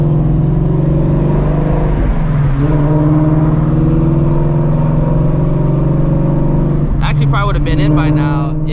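Shelby GT350 V8 engine pulling hard at high RPM from inside the car, a loud sustained drone that climbs steadily, drops at a shift, then rises again with sharp bursts near the end.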